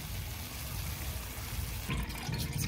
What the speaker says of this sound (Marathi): तर मी 1 तांब्या पाणी घातलेलं आहे।